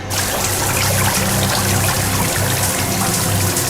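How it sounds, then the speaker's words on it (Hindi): Water pouring and trickling steadily into a cracked submarine, a continuous close rushing wash with low rumbling underneath, no voices. "सर, सबमरीन में दरार आ गई सर। पानी तेजी से नीचे आ रहा है।"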